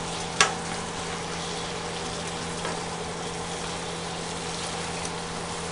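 Onion fries in a pot for an artichoke stew, giving an even, moderate sizzle with a low steady hum underneath and one brief knock near the start.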